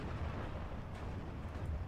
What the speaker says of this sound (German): Der 380 mm Artillerie